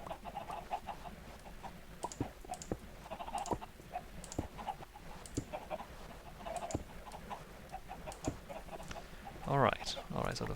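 Chickens in the video game Minecraft clucking around an egg collector build: repeated short clucks scattered through a busy bed of background game noise and clicks, moderately close, with a louder burst near the end.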